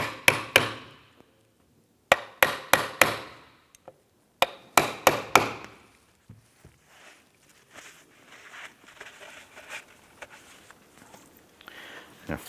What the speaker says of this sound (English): I'm going to use a socket just to tap these down